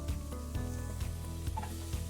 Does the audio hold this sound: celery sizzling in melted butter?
yes